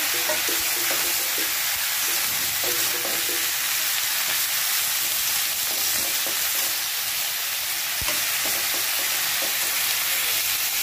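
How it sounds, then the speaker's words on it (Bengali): Vegetables frying in a pan, a loud, continuous close sizzle with occasional scraping and clinking as they are stirred and turned, no voices. "সবজিগুলো ছাড়া হয়ে গেছে, নাড়াচাড়া করে নিই"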